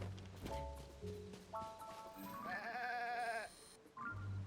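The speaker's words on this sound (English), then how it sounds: "these are the same goats that I've already seen before." Several goats in the video game The Legend of Zelda: Tears of the Kingdom bleat one after another, loud and close, with a nasal wavering cry near the end.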